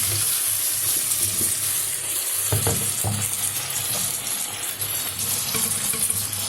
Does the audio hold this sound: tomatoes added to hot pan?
yes